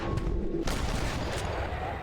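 Gunfire from a shooting challenge in the Red Dead Redemption video game, with a sharp report followed by a second shot and a fading reverberant tail, loud and close.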